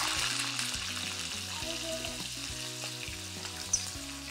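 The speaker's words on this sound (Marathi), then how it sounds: "कढईमध्ये तेल गरम केलंय. यामध्ये आपण अर्धा चमचा जिरं घालूया आणि पावटा." Cumin and field beans fry in hot oil in a kadhai, a continuous close crackling sizzle with a sharp clink near the end, while background music plays underneath and no one speaks.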